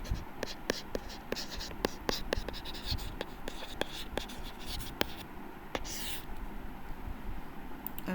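Chalk or marker writing on a board during a multivariable calculus lecture on triple integrals, a steady series of quick tapping and scratching strokes, close and moderately quiet, with no talk.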